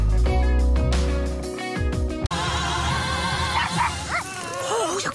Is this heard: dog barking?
yes